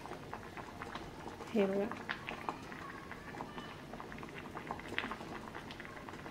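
Papaya pieces boil in water in a pot, a soft, continuous bubbling and gurgling heard close up while someone speaks briefly over it.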